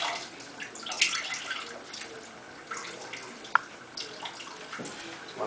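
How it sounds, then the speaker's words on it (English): Water drips and trickles steadily from wet plaster cast material as it is wrung out, a close, continuous splashing with a few sharper drops and no talking. "Hang a bit, get some of the water out of there."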